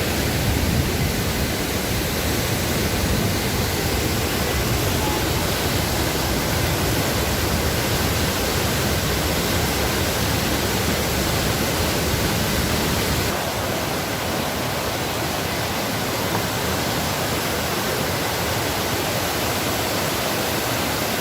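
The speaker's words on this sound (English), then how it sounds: "this is the beginning of the waterfall" A waterfall in Austria roars with a dense, steady rush of falling water, loud and unbroken from start to finish, with no voices.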